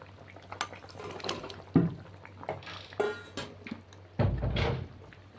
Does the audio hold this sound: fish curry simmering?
yes